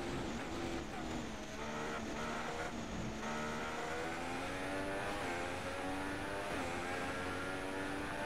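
A Formula 1 car engine in the F1 2016 racing game at Bahrain screams continuously at high revs, with pitch rising and dropping through gear shifts, loud and close throughout.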